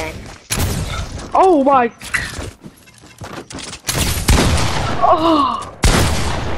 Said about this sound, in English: It's shotgun fight then.